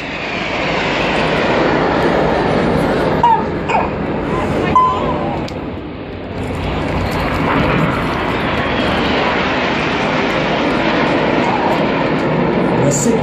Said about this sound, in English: These 4 aircraft are now closing at 850 miles an hour